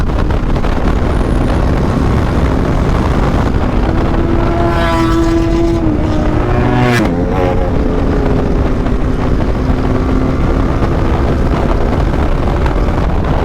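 A superbike on an off-road ride makes a fast fly-by. Its engine note rises and falls sharply as it roars close past, with steady wind rumble all around and no talking.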